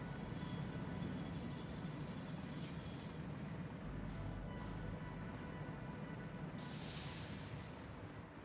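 A train runs steadily in the Satisfactory factory-building video game, a continuous dense rumble with rolling mechanical texture and brief hissy bursts, no speech.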